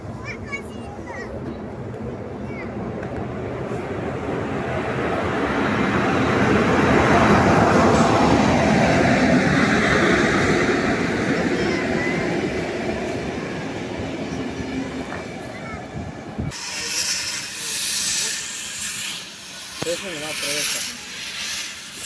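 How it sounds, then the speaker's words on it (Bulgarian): A steam locomotive built in 1948, series 16, rumbles closer, its roar swelling to a loud peak and then easing off, followed by a sharper metallic burst of screeching and clatter near the end. "знаете, че идва влака за Горна Оряховица"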